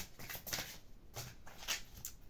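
A deck of oracle cards is handled and drawn, giving a run of soft papery shuffles and flicks with a few sharper card snaps, close by and fairly quiet, with no talking.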